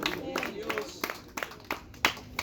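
Scattered, uneven clapping from a church congregation at a wake service, individual claps rising and falling irregularly over low background voices.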